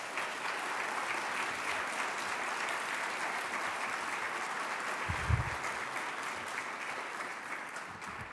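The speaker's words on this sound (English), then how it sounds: "Let's give them a round of applause, please." Audience at an annual leaders' gathering applauding sponsors: sustained, even clapping from a large crowd throughout, with one brief louder thump partway through.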